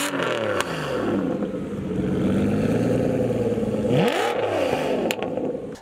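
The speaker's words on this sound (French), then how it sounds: "mon Aston est un peu le contre-exemple, avec son V12 qui rugit à la mort." A modern Aston Martin sports car with a V12 engine and manual gearbox roars loudly, revving up and down through rising and falling pitch sweeps, close and alone without talk.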